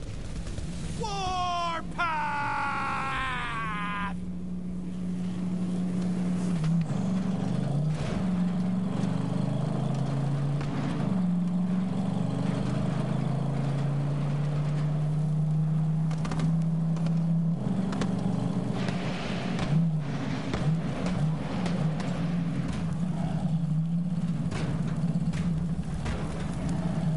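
A Borderlands 3 vehicle drives along with a steady, droning engine hum that rises and falls with speed, following a burst of shouted voices at the start.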